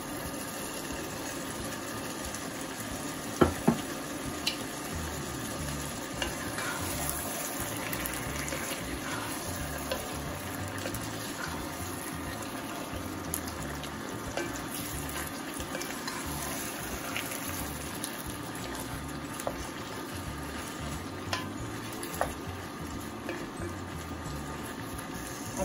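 Minced meat qeema cooks in a pan with the reserved onions and salt added, giving a low, steady bubbling sizzle with scattered small clicks and pops throughout.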